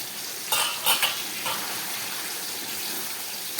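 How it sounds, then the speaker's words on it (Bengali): Vegetables with stalks, paneer and chilli simmer under a lid in a covered pan, giving a steady soft sizzle and bubbling, with a few light clinks of utensils early on, close and without talk. "আমি একটা ঢাকা দিয়ে দিলাম। রান্না হোক 3-4 মিনিট"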